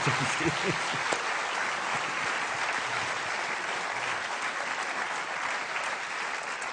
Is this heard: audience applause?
yes